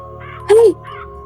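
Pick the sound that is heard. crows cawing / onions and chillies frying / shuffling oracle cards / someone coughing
crows cawing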